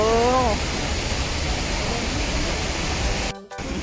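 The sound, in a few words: Haew Suwat waterfall rushing water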